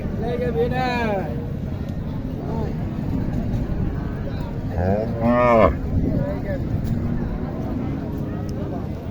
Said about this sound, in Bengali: এটাই গাবি